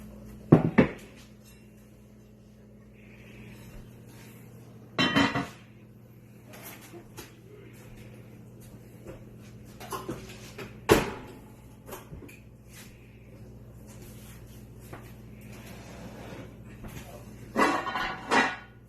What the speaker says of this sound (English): While that sits for 20 minutes, we gotta grab our Dutch pan.